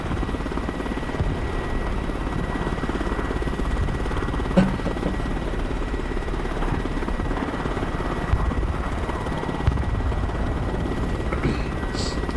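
A Ka-29 helicopter in the Broken Arrow war game gives off a continuous rotor and engine drone, with a few sharp clicks and thuds. There is no talking.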